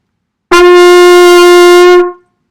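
A trumpet sounds a single sustained G, a bright brassy tone entering sharply, held steady for about a second and a half, then cutting off with a brief fade. It is close and loud with no talking.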